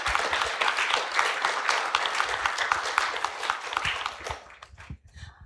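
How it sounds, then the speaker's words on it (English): A crowd claps and cheers in dense, continuous applause that fades out near the end. "Big applause."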